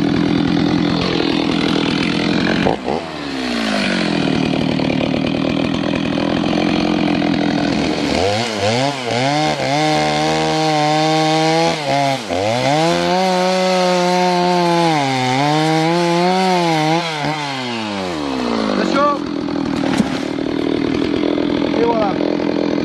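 A chainsaw cuts through very dry wood on angled cuts, its engine note loud and close as it bogs and rises through the cut and then revs freely near the end.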